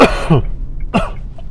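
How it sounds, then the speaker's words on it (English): Two sharp coughs close to the mic, the first slightly longer, separated by a short pause with quiet room tone. "it's that cough I was telling you about."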